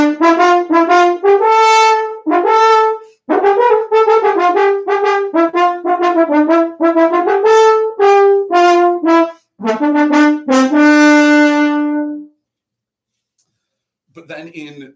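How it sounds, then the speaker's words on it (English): Orchestral French horn playing an aggressive, march-like phrase in the style of the Imperial March: loud, brassy sustained notes in short punchy groups, played alone and close, ending in a long held tone before a brief pause. "Horns can play really aggressive, something like in the Imperial March in Star Wars."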